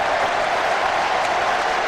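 Steady applause from a stadium crowd at the trophy presentation after Nottingham Forest's 1990 League Cup final win over Oldham Athletic, a dense unbroken wash of clapping at even loudness throughout.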